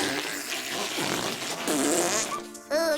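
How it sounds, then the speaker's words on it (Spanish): A cartoonish fart sound effect from a documentary about cow farts, loud and close, a long wobbling squeaky blast followed by a short second burst. "el documental sobre los pedos de las vacas"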